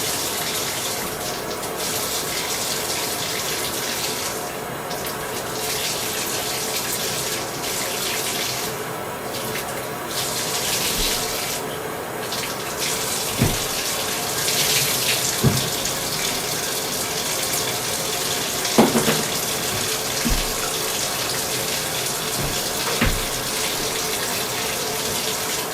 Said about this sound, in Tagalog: ang next ko nga gagawin is linisin ang bathtub